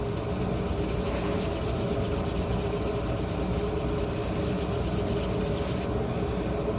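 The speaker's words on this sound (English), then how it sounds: "The difference with this step is that you're going to sand all of your flat parts." Sandpaper works steadily across the flat parts of a project, making a loud, continuous rubbing hiss with no pauses and no voices.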